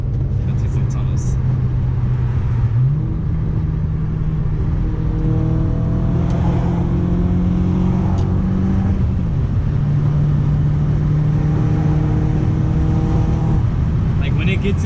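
Audi B6 A4 fitted with a full ECS catback exhaust accelerating through a tunnel at night, a steady loud low drone that climbs in pitch through several gear pulls, close and continuous throughout.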